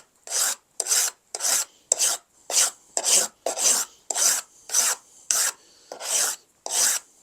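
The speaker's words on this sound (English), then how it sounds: "I've seen many people sharpening scrapers like this." A steel scraper is sharpened with a file in a steady rhythm of about a dozen harsh rasping strokes, each close and even, separated by short pauses.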